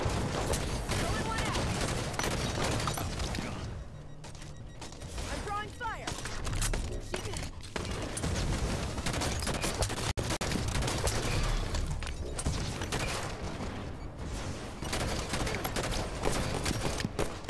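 Rapid gunfire rattles almost without pause in a video game firefight, loud volleys layered over one another with a brief lull midway, while voices talk over the shooting.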